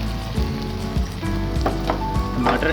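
Tomatoes hit frying ginger garlic paste in a pan while cooking aloo gobi, giving a close, steady sizzle with crackling spatters and occasional stirring scrapes.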